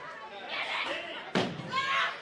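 A sharp thud lands mid-scene during a brawl in a women's falls count anywhere wrestling match, surrounded by shouting and loud vocal noise.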